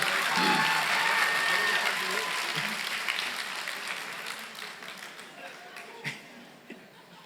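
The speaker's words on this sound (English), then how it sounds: "Big round of applause here." Applause rolls through the audience at a high school commencement, loud at first and then thinning to scattered claps over several seconds, with a faint voice and a few isolated sharp claps near the end.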